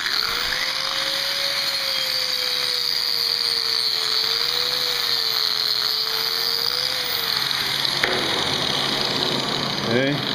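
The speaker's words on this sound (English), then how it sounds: "I'm gonna just hit it with the wire wheel." A wire wheel grinds rust off steel with a continuous, close, high-pitched whirring whine, its motor pitch wavering slightly before a harsher scraping burst near the end.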